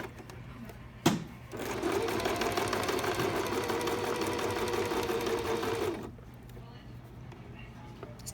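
A sewing machine stitches a French seam in one steady run of about five seconds. Its motor whirs loud and close, with rapid needle clatter, and starts and stops abruptly against quiet room tone after a sharp click.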